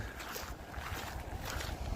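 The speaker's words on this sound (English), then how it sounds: "It's quite windy" Faint wind rushes and buffets the microphone continuously in Skogskyrkogården cemetery, Stockholm, with low rumbling gusts and some watery background noise.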